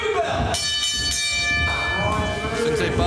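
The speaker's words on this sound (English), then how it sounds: "Ring the bell!" A ringside bell clangs to open a wrestling match, its ringing tones layered over a steady crowd murmur and voices throughout.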